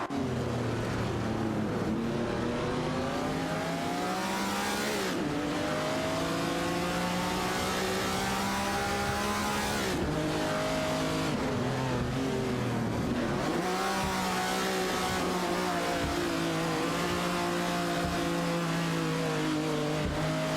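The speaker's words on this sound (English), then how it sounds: "Racing car dashing away." Virtual race cars in an AI racing game roar continuously, engines revving and shifting with rising and falling pitch sweeps as several cars accelerate and pass, loud and sustained throughout.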